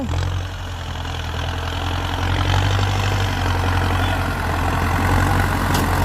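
A Ford 5000 turbo tractor engine chugs steadily nearby while plowing hard, dry soil in a rice field, its low rumbling drone continuous and unchanging under load.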